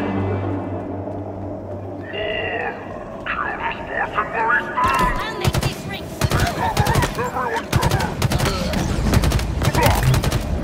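Halo Infinite campaign combat at Outpost Tremonius, with a player talking over it: sharp bursts of weapon fire build into rapid, repeated shots, mixed with sci-fi electronic tones and rumbling effects.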